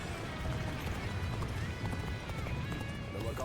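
A horse gallops in the video game Dynasty Warriors Origins, its quick, steady hoofbeats thudding under a busy battlefield din of clashes and shouts, at moderate volume.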